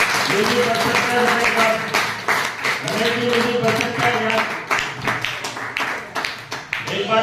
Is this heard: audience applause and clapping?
yes